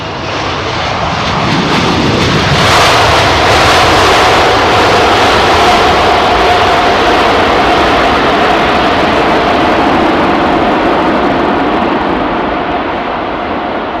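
A Boeing 777-300ER just landed on Heathrow runway 27R deploys its thrust reversers, a loud surging jet roar that swells to a peak then holds as a sustained rushing blast, no talking.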